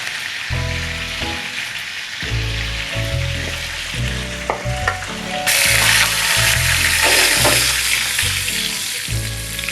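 Loud, steady sizzling of onions frying in hot oil for a chicken nihari tempering, with a sharp surge of crackling partway through and low clunks of stirring underneath.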